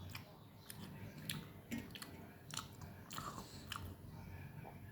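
Close, soft chewing of roti flatbread, with repeated moist crunches and squishy bites in an irregular rhythm over a low background rumble.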